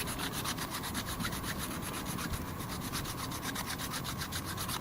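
A small multitool file rasps back and forth across wood in quick, regular strokes, close and soft, forming a rhythmic scratchy rubbing with no voices.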